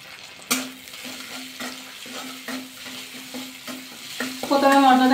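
Spices with cumin powder, turmeric and salt being sautéed in a pan for cabbage kachori filling, a crackling sizzle with a sharp clank and then regular scraping stirs, close, swelling louder at the end.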